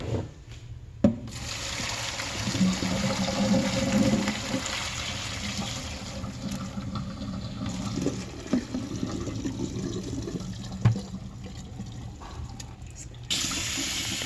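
Cooked chicken fat being drained into a kitchen sink, with running tap water pouring and splashing steadily throughout, a few clunks and knocks of the pan against the basin, and the flow cutting off near the end.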